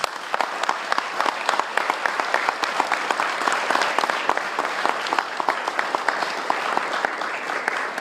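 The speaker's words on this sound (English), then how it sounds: "Let's give them a big round of applause" A luncheon audience gives graduates a sustained, dense round of applause with sharp individual claps standing out, steady and loud throughout.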